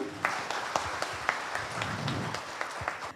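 A studio audience at a health education talk show in Banyuwangi gives a brief, fairly quiet round of applause, with scattered distinct claps over a soft background wash.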